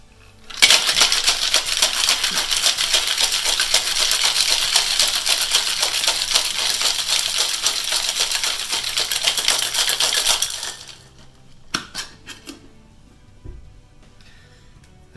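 A cocktail shaker holding a rum cocktail sweetened with sugar-free Splenda simple syrup is shaken hard for about ten seconds, giving a loud, dense, steady rattle of ice, then stops abruptly, followed by a few scattered clinks.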